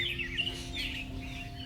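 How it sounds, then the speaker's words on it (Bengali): Morning birds chirp on a char in the Padma River, with bright short tweets and calls scattered over a low, steady outdoor hum. "পাখির কিচিরমিচির শব্দে ঘুম ভাঙে এখানকার মানুষের।"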